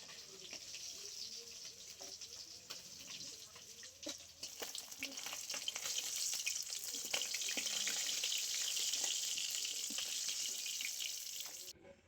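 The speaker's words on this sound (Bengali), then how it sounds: "সব কটা মাছ এবারে আমি একই রকম ভাবে ভেজে নেব।" Fish sizzle while shallow-frying in hot oil, a bright, crackling hiss that is steady and close and slowly swells louder, with occasional utensil clicks and no speech.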